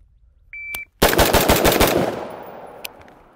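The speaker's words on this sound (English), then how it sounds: "Let's just shoot into one of these bigger circles, and let's just see what happens." A rifle fires rapidly at targets 5 yards away on a shooting range. A short electronic beep comes first, then about six fast, loud, close shots end in a fading echo.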